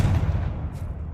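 Confringo blasting spell in Hogwarts Legacy, a single deep explosive boom that rumbles and fades over about a second, heard alone.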